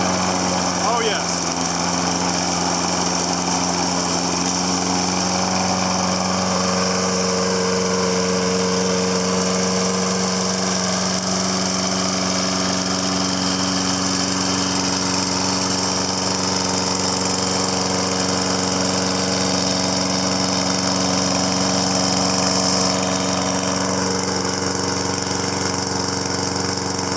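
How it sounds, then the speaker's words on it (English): A Toro Recycler Model 20370 lawn mower with a Kohler 6.75 engine runs steadily after carburetor cleaning, a loud, close, continuous droning hum with a slight rise in pitch near the end. "The Kohler powered Toro Recycler back to life. Runs great."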